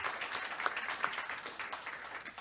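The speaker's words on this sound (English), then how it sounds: "all that remains is to applaud our two speakers" A seated audience applauds two discussion speakers at the end of a session, a dense, steady patter of many hands clapping at moderate distance, with no clear speech over it.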